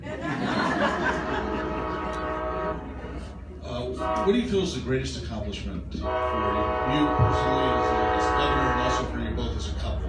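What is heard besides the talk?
passing train sounding its horn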